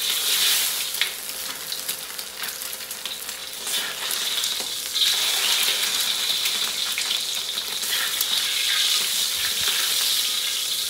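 Spicy chicken and pork pares fry in hot oil, making a continuous, bright sizzle that stays steady and fairly loud throughout, with no voices.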